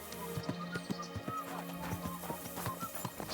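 Pebbles, a grey horse in a video game, clip-clops with steady, close hoofbeats ringing out in an even rhythm, with faint snorting or whinnying mixed in.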